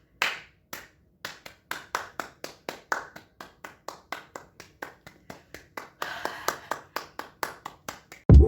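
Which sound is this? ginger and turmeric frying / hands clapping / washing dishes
hands clapping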